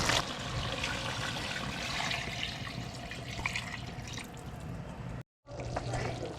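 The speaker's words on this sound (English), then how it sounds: "I'm gonna add some more water to it and cover the meat" Water is poured into a cooking pot of venison and gravy, giving a continuous splashing, gurgling pour with a brief break near the end.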